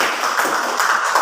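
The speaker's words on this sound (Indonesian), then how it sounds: "tepuk tangan untuk kelompok 1 dan kelompok 2" A classroom of students applauding two student groups, a dense continuous wash of many hands clapping at steady loudness throughout, with no talk over it.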